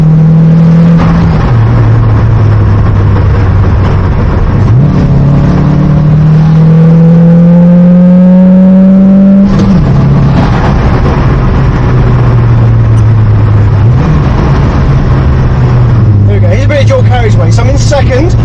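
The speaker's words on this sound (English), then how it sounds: "It definitely sounds like a car that should be quicker than it is." A slow car's engine accelerating through the gears on a carriageway, revs climbing steadily then dropping at each shift, loud and close, with a voice talking over it.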